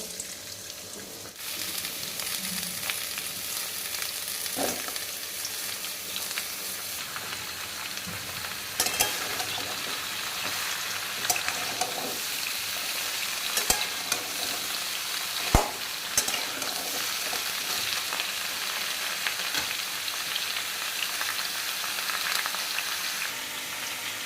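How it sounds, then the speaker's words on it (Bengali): Steady loud sizzling of vegetables frying in hot oil in a wok, with occasional clanks and scrapes of stirring throughout, no voices. "কড়াইয়ে তেল দিয়ে দিয়েছি আমি একবারে সব ভেজে নেব"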